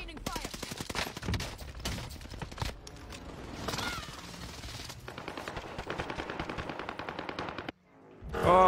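Sustained automatic gunfire in a shooter video game rattles in long, rapid bursts with short gaps, fairly loud and close, ending with a brief different rising game sound; no voices are heard over it.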